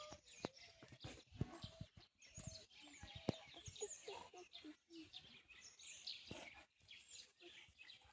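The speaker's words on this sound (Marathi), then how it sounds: "पक्ष्यांचा आवाज आपल्याला ऐकायला येत." Songbirds, including sparrows, chirp and call in quick, bright bursts near a hillside school among teak trees, moderately close, with brief pauses between phrases and no talk over them.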